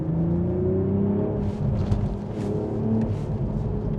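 A BMW Z4 M40i roadster runs steadily with a droning exhaust note and engine whir, a few short sharp crackles and pops flickering through near the middle, heard up close without talk.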